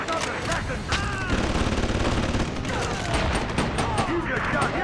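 Rapid gunfire from a Grand Theft Auto V Call of Duty parody, dense overlapping bursts of shots and booms running continuously at loud volume, with shouting voices mixed in.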